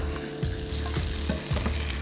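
Chili, lightly crushed garlic and a slice of ginger fry in melted butter in a pan, giving a steady close sizzle with soft stirring scrapes and bubbling pops throughout.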